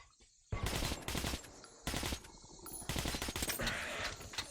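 An overheating automatic weapon in Metro 2033 Redux fires three long bursts, each a loud, rapid rattle of shots lasting about a second, separated by brief pauses and ending with sustained fire.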